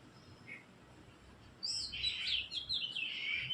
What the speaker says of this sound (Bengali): দেখো কি সুন্দর একটা পাখির আওয়াজ পাচ্ছি শোনো